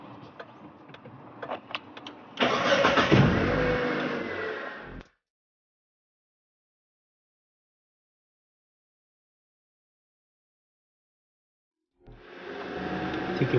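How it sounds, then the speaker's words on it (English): A car engine cranks and catches via a push start button, rumbling steadily for a few seconds before cutting out; after a long silence it starts up again. "let's start the engine"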